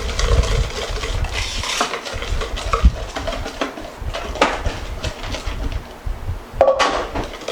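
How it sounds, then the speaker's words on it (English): A whisk stirs milk into instant pudding mix in a bowl, giving repeated close scraping and clinking strokes in an uneven rhythm, alone with no talk. "I'm going to add my milk to this. And I'm going to whisk it until it's a little firm."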